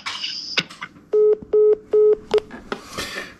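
Pocket-dialed phone call heard through a phone: three sustained dialing tones and a short fourth one in a row, between muffled rustling and noise.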